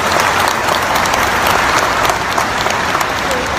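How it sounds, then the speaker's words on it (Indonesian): An audience at an Indonesian religious talk show breaks into loud, sustained applause that fills the room evenly, with no voices heard over it. "Tepuk tangan yang meriah buat Petren TV."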